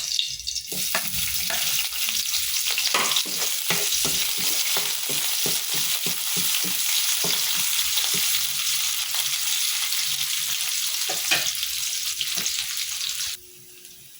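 Sinigang ingredients and onion brown in a pan, with a steady, close, fairly loud sizzle and a string of stirring scrapes and taps that stops abruptly near the end, with no voices.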